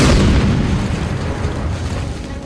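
A grenade explosion in the video game Batman Arkham City: a loud, sustained boom opening the clip and rolling off into a dense low rumble that fills the rest.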